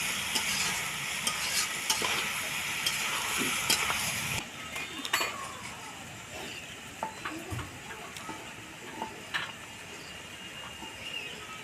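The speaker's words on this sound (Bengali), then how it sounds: "মাংসটাকে এবার কষবো ভালো করে" Goat meat stir-fried in a pan over a wood fire, a steady sizzle and frying hiss with scraping stirs throughout, louder in the first few seconds then settling into a quieter crackle.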